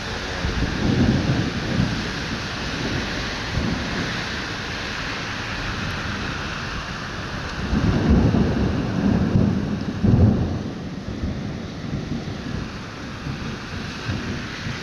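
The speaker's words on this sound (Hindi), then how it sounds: "ये देखें कितना तेज़ बारिश है।" Heavy rain pours steadily in Medina, a dense wash of noise broken by deep rolling thunder, with louder rumbles at about 1, 8 and 10 seconds; no one speaks.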